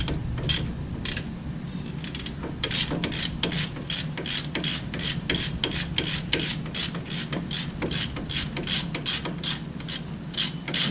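An 18mm ratchet snugs wheel studs on a 2014 Ford Explorer hub, a rapid run of sharp, evenly spaced clicks close by, with short pauses between runs and a brief spoken remark.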